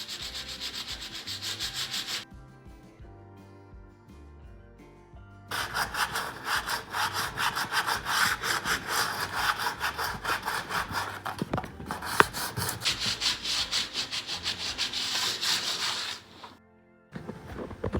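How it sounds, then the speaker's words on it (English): Fine 220 grit sandpaper rubs across a thrifted wooden farmhouse decor piece in steady, loud back-and-forth strokes, with a brief quieter pause before the brisk scraping resumes and runs nearly to the end. "Now what I'm going to do is lightly just sand the highlights."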